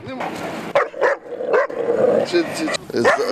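A young shepherd dog puppy gives several short, sharp barks and yips close by, interspersed with whimpering sounds.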